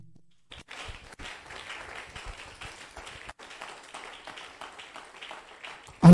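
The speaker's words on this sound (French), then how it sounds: "Acclamons pour l'honneur de Dieu." Applause and clapping from a congregation during a French-language church service, a steady crowd patter of many hands sustained for several seconds at moderate loudness.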